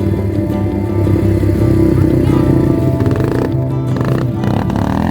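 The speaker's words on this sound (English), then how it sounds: "Hey, get on it, buddy. Lots of throttle." A motorcycle engine runs loud and close with sustained throttle at a ranch race, a dense, steady growl holding for several seconds, with a shout heard over it.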